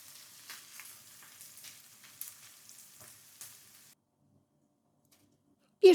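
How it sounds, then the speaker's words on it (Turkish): Minced meat frying in a pan with red pepper flakes, black pepper and salt, a soft crackling sizzle with stirring for several seconds, then near silence before a short loud knock at the end. "Tekrar güzelce kavuralım."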